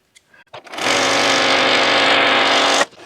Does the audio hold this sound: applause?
no